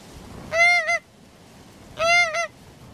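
Two loud, nasal goose honks from wild geese during a hunt in Orkney, each a short double call, separated by a pause of about a second, close by over quiet background.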